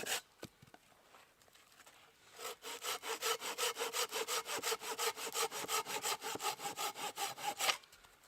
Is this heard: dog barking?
no